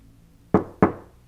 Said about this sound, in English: Listen how solid that knock is.